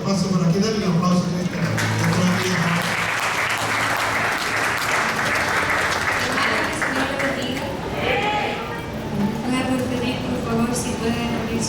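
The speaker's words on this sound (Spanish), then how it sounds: "denle un aplauso." A church congregation at Iglesia Trinidad de Dios breaks into loud sustained applause, dense clapping throughout with a few voices and cheers rising within it.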